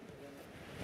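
Wind blows outdoors at night in a steady, rumbling rush that buffets close to the microphone, continuous and fairly loud for the whole brief moment.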